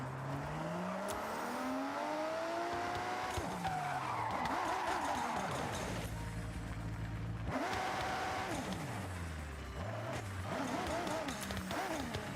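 Race car in a video game over-throttling on grass, its engine revving and sliding up and down in pitch while tires skid repeatedly, close and loud, with a person talking over it.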